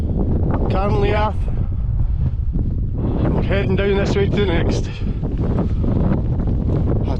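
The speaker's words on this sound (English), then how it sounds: "it's extremely windy up here." Strong wind buffets the microphone on a mountain top at Beinn a' Ghlò in a constant loud roar while someone talks over it.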